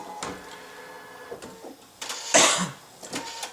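An embroidery sewing machine stitches fleece flowers in short mechanical bursts, with clacking and whirring pulses that stop and start, nearby and moderately loud.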